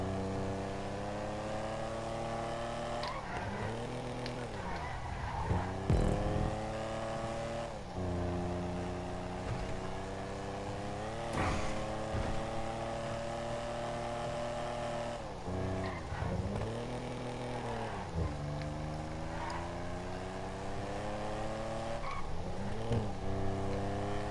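Engine of the Rune Cheburek, a classic sports car in GTA V, held at steady high revs with repeated dips and rises as gears shift and the throttle lifts, loud and continuous with crackles, and no talk over it.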